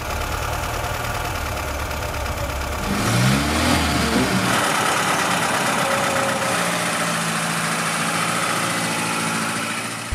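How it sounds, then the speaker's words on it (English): A Lada VAZ-2103 (Zhiguli 1500) 75-horsepower engine idles loudly and steadily nearby, with a brief throaty rise partway through before settling back to an even rumble. "there it is, the magnificent Zhiguli engine, a whopping 75 horsepower to be precise."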